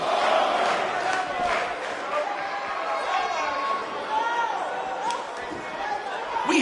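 A sold-out arena crowd at a wrestling event in WWE 2K19 roars and chatters in a dense, continuous wash of noise that rises and falls slightly throughout.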